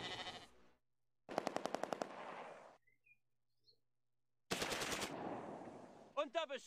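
Machine gun fire in the video game Close Combat 2 comes as two loud, rapid bursts of rattling shots with a quiet gap between them, followed by a brief warbling voice call.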